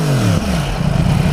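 A loud, close 2015 Yamaha R1 sport motorcycle engine revs, pitch sliding down then settling into a rough, throbbing idle.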